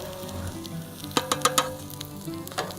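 Tortillas sizzling on a Blackstone griddle during quesadilla cooking: a steady close frying hiss, with a few crisp crackles and pops clustered in the middle.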